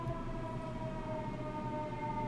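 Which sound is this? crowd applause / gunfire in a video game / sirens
sirens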